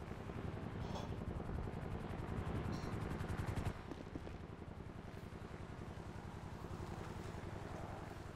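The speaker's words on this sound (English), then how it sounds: "Hostile helicopter" A hostile helicopter in a video game churns with a fast rotor thump, joined by bursts of gunfire. The rotor beat is loud and near at first, then settles into a continuous roar under faint voice.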